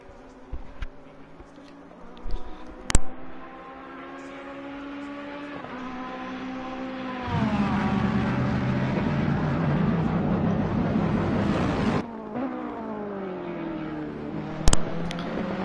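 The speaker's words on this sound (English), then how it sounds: "just have a listen to the beautiful sounds of these different engines here" Onboard race car engines at the Hungaroring, with a Mercedes among them, rising and falling through gears with clear harmonic sweeps, growing louder and harsher mid-clip as cars accelerate, with sharp spikes and no talking.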